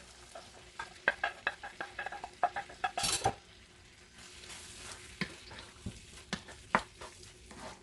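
A sauteed mixture for butter chicken sizzling in a pan while a metal spoon stirs and knocks against it in a run of sharp clinks, then quieter sizzling with scattered scrapes.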